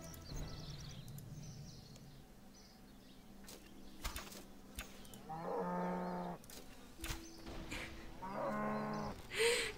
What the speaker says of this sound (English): I'm just gonna go shoot some cows.